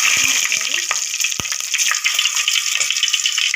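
Cumin, biryani leaves and green chillies fry in hot oil in a pan for mutton potato curry, giving a loud, steady sizzle with a few sharp pops close by.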